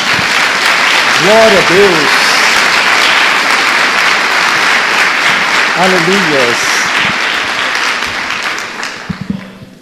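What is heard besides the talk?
church congregation applauding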